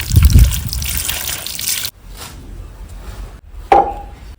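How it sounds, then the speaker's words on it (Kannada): Curry leaves are swished and rinsed in water for curry-leaf rice, giving a sloshing, rustling splash up close, then a quiet lull and a brief clink near the end. "ಕರಿಬೇವು ಸೊಪ್ಪನ್ನ ಒಂದ್ಸಲ ನೀರಲ್ಲಿ ಚೆನ್ನಾಗಿ ತೊಳ್ಕೊಳ್ಳೋಣ"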